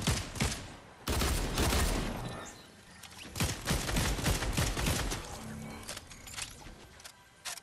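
Rapid bursts of video-game gunfire crackle and rattle in dense, repeated volleys, loud and close throughout, with a sharp heavy burst near the start and scattered shots continuing to the end.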